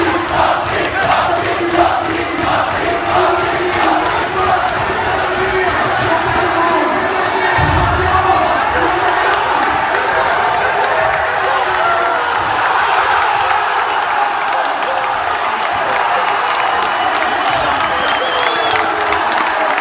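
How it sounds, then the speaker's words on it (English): A large crowd at an ESWC 2015 esports event roars continuously, with loud cheering, whoops and clapping building into a dense wall of sound alongside voices. "This is the best crowd I've ever heard."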